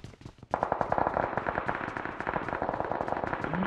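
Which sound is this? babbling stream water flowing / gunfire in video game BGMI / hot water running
gunfire in video game BGMI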